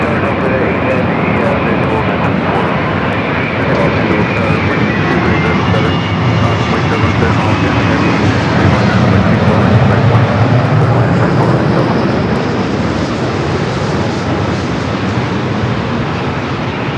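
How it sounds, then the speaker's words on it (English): A Boeing Dreamliner arriving from Tokyo Narita lands at LAX, its loud, dense engine roar filling the scene continuously while a voice talks over it. "the Dreamliner coming in from Tokyo Narita"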